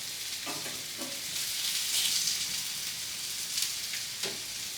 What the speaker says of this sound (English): The residual heat from the pan will continue to cook that sausage for a little bit longer.